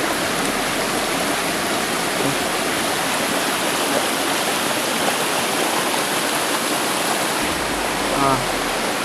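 A river rushes steadily for the whole span, a loud, dense broadband wash of flowing water with no break in its churning roar.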